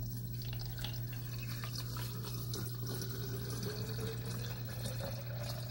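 Tap water running steadily into a cold brew carafe holding green tea bags, a continuous filling rush with a low hum underneath, close and fairly quiet, with no talking.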